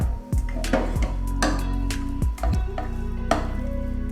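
A spoon mixes a potato cheese ball filling with garam masala powder, soy sauce, tomato ketchup, sugar and chopped coriander. It scrapes and clinks against the bowl in repeated sharp knocks over a low rumbling background.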